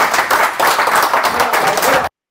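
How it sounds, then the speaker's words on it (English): Team applause in a football changing room after a match: players clap loudly and close up in a dense, continuous burst for about two seconds, then it cuts off abruptly. "So round of applause for Ryan today, boys, yeah?"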